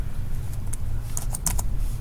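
Typing on a computer keyboard, a handful of quick, close key clicks in short bursts over a low background hum, with no talking.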